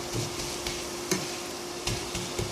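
Mustard greens cooked with flat beans are stirred in a pan over a low sizzle, with occasional scraping knocks of the spoon against the metal, close and fairly steady without any voices.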